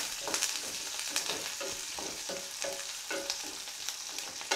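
Green chillies and curry leaves sautéing in a pan, an even sizzle broken by regular scraping strokes of a stirring spoon, fairly faint and steady.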